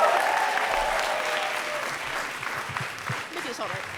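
A crowd applauds steadily, a dense wash of clapping that holds for several seconds, with a faint voice briefly showing through near the end.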